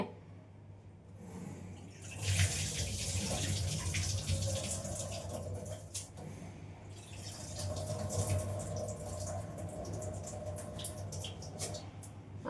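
Running water splashes steadily for several seconds with a soft, continuous gush, like rinsing grains under a tap, with no talking.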